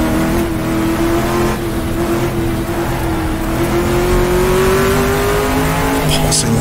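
Race car engine from the GTR2 racing game on the 1966 Targa Florio road course, a loud sustained drone that holds a steady pitch and climbs slowly, with a brief tire squeal near the end.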